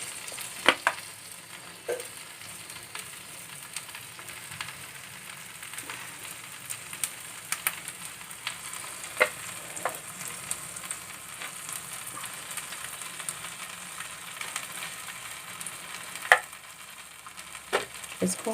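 A malai sandwich mixture spread in a pan fries over a low flame with a soft, steady sizzle, broken by occasional small pops and clicks.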